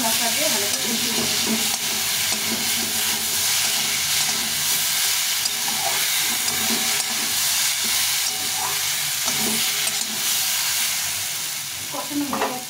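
Drumstick pieces and potato cooked down with spices and a little water in a pan, a steady close sizzle and frying hiss with scattered stirring scrapes throughout, no talking.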